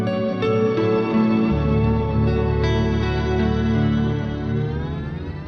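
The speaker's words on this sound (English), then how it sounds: "So the Astral Destiny is an octave reverb pedal with 8 different modes" Guitar played through an EarthQuaker Devices Astral Destiny octave reverb pedal, sustained chords swelling into a shimmering, layered wash of reverb with octave tones, heard alone and fairly loud throughout.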